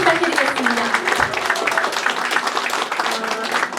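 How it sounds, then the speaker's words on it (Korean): An audience at a political talk concert applauds steadily throughout, a dense wash of clapping, while a voice speaks faintly underneath. "인사하시는 두 분께 다시 한번 큰 박수 부탁드리겠습니다"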